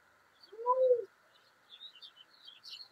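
A single low, soft coo from a pigeon sounds once up close in a quiet outdoor setting during the rainy season, followed by faint scattered chirps from other birds in the distance.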